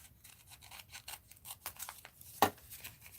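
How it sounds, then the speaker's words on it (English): Scissors snip through paper for a paper-bag art journal in a series of quick, close, crisp cuts. A sharper final snap stands out near the end, and no one talks. "Let's snip it off."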